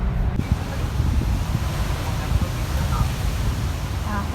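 Steady wind buffeting at the seaside in bright sun, a broad rushing noise with low gusty thumps against the microphone, continuous and close throughout.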